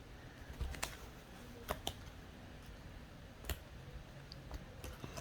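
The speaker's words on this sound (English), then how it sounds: "There aren't that much clicking sounds because this is a really small slime." Small glitter slime being squeezed and played with gives a few faint, scattered clicks and pops over a quiet room hiss, with each crisp tick well apart from the next.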